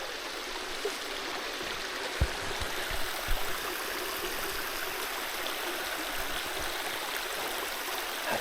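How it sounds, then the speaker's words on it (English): A backcountry stream at Little Hardy Lake in Algonquin Park rushes steadily over rocks, a broad, even hiss of running water close by, with a few soft knocks and no talking. "I hear some running water over here."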